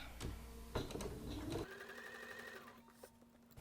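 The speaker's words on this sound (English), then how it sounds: "start sewing with our scant 1/4 inch seam allowance" A Bernina 790 sewing machine with a 37D foot stitches a quilt seam at a 2.0 stitch length, a rapid mechanical whirring hum with clicks, close and fairly faint, alone.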